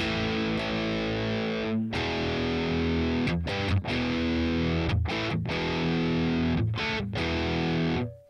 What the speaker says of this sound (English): Classic crunch.